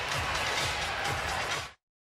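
Golden State Warriors home arena crowd cheering and roaring during an NBA preseason game against Los Angeles, a loud, dense wash of voices that cuts off abruptly.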